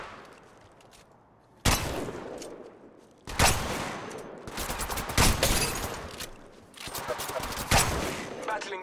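Gunfire in the Apex Legends video game: loud, abrupt volleys of rapid shots erupt after a quieter start and repeat in several dense bursts, with voices talking between and under them.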